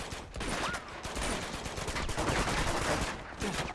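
Machine gun fire in the video game Uncharted 2: dense, loud, sustained bursts of rapid shots that run continuously with brief dips.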